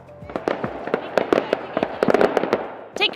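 Fireworks exploding in a rapid, uneven run of sharp bangs and crackles, about a dozen bursts over a few seconds, moderately loud with a denser flurry near the end.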